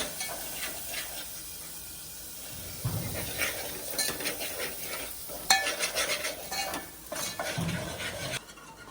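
A spoon stirs red chilli and turmeric through hot oil in a pan for sour dal, with a soft sizzle, scraping and clinks of metal against the pan that grow louder partway through.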